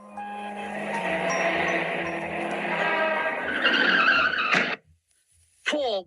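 A car in a children's cartoon public-information film skids with a long, loud tire screech, then cuts to a sudden silence before a short burst of sound returns.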